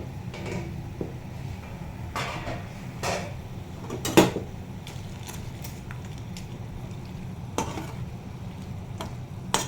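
Papadum curry bubbles in a pot on the stove, a soft, steady simmering hiss punctuated by occasional clinks and stirring knocks close by, with no one speaking.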